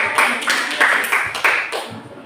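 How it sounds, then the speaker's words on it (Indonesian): Classroom applause for a student group after a presentation, a short burst of scattered hand claps close by, rising and fading in uneven waves over a couple of seconds with no talking. "Oke, tepuk tangan untuk kelompok."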